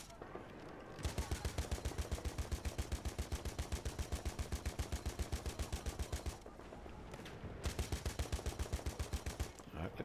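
Rapid automatic gunfire in the video game Battlefield 1, two long bursts of fast, evenly spaced, punchy shots with a short gap between them, loud and close.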